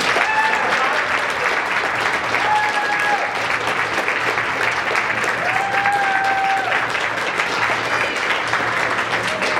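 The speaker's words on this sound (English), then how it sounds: "let's hear a round of applause for both teams" An audience at the Army Navy debate match in Philadelphia claps for both teams, a loud, continuous wash of applause lasting nearly ten seconds with a few faint whistles and calls inside it.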